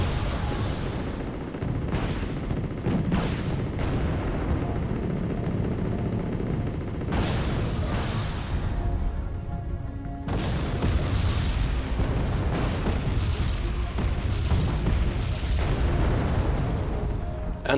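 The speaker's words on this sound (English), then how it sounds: "lots of ATGM fire coming in on those Abrams, and it's all at minimum conkers," Anti-tank guided missiles strike Abrams tanks in a military video game, with repeated heavy booms and explosions over a dense, continuous battle roar.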